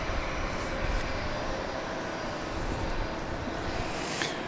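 A Southwest 737-700 jet at Dallas Love Field roars steadily and loudly through its takeoff run, a broad continuous engine rumble and whine holding level throughout with no voices.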